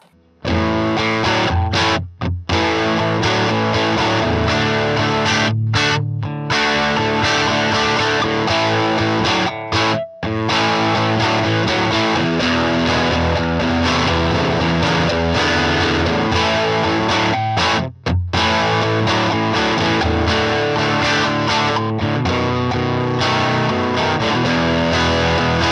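Electric guitar on the bridge pickup through a cranked Fender Tone Master Pro amp with the tone nudged up and tremolo off, playing loud, thick distorted chords and riffs almost without pause, with only a few brief gaps.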